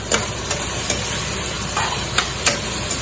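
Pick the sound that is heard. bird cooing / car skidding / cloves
cloves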